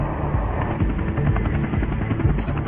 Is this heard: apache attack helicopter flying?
yes